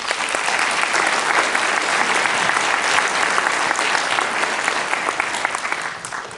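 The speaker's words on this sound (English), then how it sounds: "And one more round of applause," Sustained applause from an audience at a homeowners' association annual meeting, steady and dense throughout, with a slight fade near the end and no speech over it.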